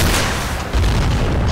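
Troops firing live from atop a small bunker in a strategy video game, a loud, close, booming barrage of gunfire that swells and continues over a second and a half.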